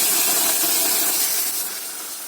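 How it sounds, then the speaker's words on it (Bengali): Water poured onto hot sugar caramel in a pan gives a loud, steady steamy hiss that fills the clip and eases off slightly toward the end, with no talking. "চিনির ক্যারামেলটা আমার হয়ে গেছে, এর মধ্যে একটু জল দিয়ে দেবো, দিয়ে পাতলা করে নেব।"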